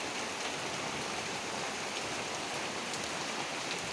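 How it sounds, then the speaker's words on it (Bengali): Rain falls steadily outdoors in an even, dense hiss with fine patter, constant and moderately loud, with no voices. "বৃষ্টি নামছে।"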